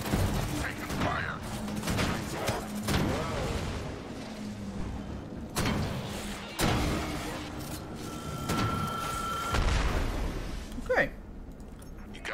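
Gunfire rattles through an urban battle in the sci-fi shooter Disintegration, with repeated sharp cracks and bursts, some loud and close and others more distant, over constant mechanical noise and brief voices.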